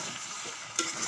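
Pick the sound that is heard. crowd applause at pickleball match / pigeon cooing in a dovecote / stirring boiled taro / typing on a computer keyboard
stirring boiled taro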